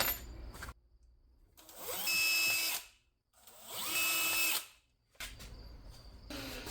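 A power drill works on an RV roof during a Starlink install, two sustained high whirring runs of about a second and a half each with short pauses and shuffling between, close and loud.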